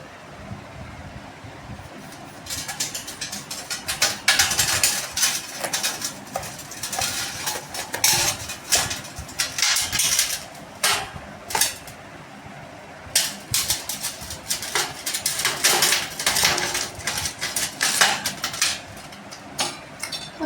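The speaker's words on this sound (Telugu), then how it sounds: "పుచ్చికాయ అయితే కోసేసాను చూడండి" A knife cuts through a whole watermelon, giving a run of sharp cracking and tapping strokes at close range. The bursts come in irregular clusters with short pauses between them, and no one speaks.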